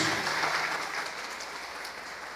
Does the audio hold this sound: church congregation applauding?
yes